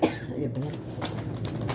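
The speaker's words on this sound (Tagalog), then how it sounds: "Ubo na naman." A single sharp cough at the start, close and fairly loud, followed by a person talking.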